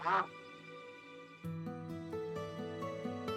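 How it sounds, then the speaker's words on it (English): Duck in a colony-building video game giving a single loud, nasal quack at the start, followed by a bright melodic run of tones. "That bloody duck."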